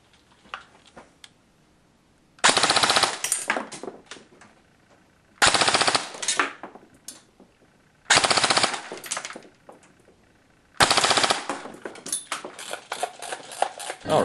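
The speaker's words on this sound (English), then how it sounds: "So I'm just going to shoot this thing for you." An A&K M4 airsoft gun, running on a 9.6 volt battery, fires four fast full-auto bursts at roughly fifteen rounds per second, each a loud, close, rapid mechanical rattle of one to two seconds with quiet gaps between.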